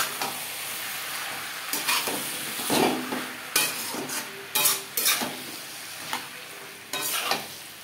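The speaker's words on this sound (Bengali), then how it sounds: "আলু, পেঁয়াজ ও টমেটোর সাথে মশলা বেশ ভালো করে মিক্সড করে দেবো।" Potato, onion and tomato with spices stirred in a hot pan: a steady sizzle with repeated scraping, clattering spoon strokes against the metal, close and fairly loud, no voices.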